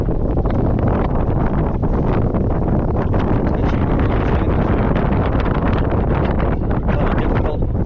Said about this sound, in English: We're supposed to get like gusts up to 45 miles an hour today. It's blowing now, let me tell you.